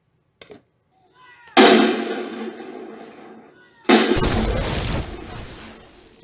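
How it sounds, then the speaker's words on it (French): Cannon salvo fired from a ship at a pirate vessel in a children's story, with a short sharp crack followed by two loud booming blasts whose roar and rumble trail off. "Les canons lancent une salve de boulets, mais aucun ne touche le bateau pirate."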